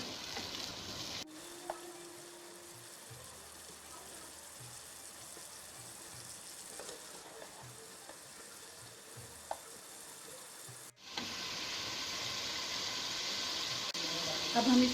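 Chopped tomatoes frying with softened onion in a pan for stuffed okra, a steady soft sizzle with occasional stirring scrapes, broken midway by a brief pause before a louder, brighter sizzle resumes.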